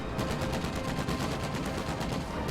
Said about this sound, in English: They take one anti-tank gun shot and focus down the anti-tank gun first.